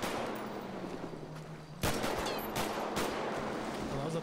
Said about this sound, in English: We're gonna get the feds shooting too much.